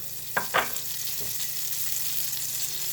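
Butter with a little olive oil sizzling in a hot sauté pan before fish is seared, a steady close hiss with a couple of sharp clinks and scrapes near the start.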